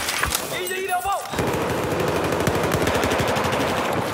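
Rapid automatic gunfire in a first-person shooter match: dense, loud bursts of repeated shots running steadily for several seconds after a short stretch of other game noise.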